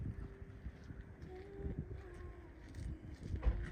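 Gusty outdoor wind rumbles and buffets the microphone steadily throughout, with low broadband roar and occasional stronger gusts near the end, no talking heard.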